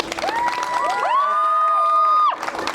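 A crowd at a Palestine protest march in Manchester cheers loudly with high whoops and shouts swelling together, then breaking into scattered noise.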